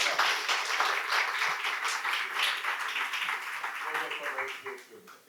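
Audience applause for a film trailer: dense, sustained clapping from many hands filling the room, steady throughout and tapering slightly at the end, with some voices mixed in.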